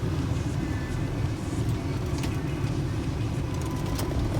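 Ford Fusion sedan with Mustang wheels and slight front-end damage idling at a Copart salvage yard, a steady close engine rumble with no talk.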